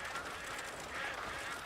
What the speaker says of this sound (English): Sounds like ducks, but they're geese.